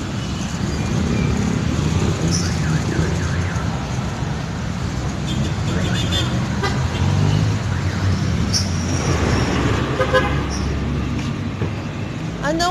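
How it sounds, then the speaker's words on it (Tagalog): A car passes along a busy street amid steady traffic rumble, its engine noise close and continuous, with short horn toots mixed in and people talking nearby. "Uy, may sasakyan!"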